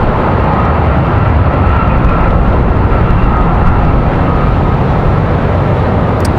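A CRJ regional jet on arrival at Raleigh-Durham International Airport on a windy day, its engine roar loud, steady and close throughout, with wind rumbling underneath.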